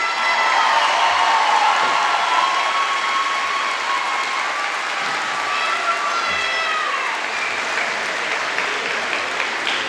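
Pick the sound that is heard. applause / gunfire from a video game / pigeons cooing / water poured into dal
applause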